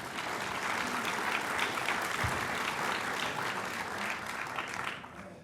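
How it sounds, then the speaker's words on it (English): Audience at a public policy talk on immigration gives sustained, dense clapping that holds steady for several seconds, then tapers off near the end. "Now, we can clap for that for sure."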